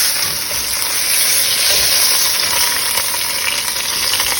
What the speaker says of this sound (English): I have 2 rump roasts in the pan, and I'm putting a nice sear on it